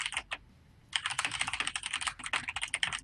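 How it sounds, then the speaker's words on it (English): A loud mechanical computer keyboard clatters with rapid, dense keystrokes close to the mic, pausing briefly early on before a sustained burst of typing during an online esports tournament broadcast. "Totally forgot about my obnoxiously loud keyboard from time to time."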